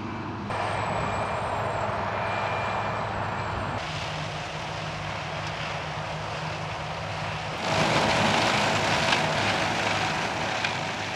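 A heavy 15.9-litre 600-horsepower Deutz V8 diesel engine on a 2003 Agrifac beet harvester drones steadily and loudly throughout, with a broad rumbling roar that swells slightly louder toward the end.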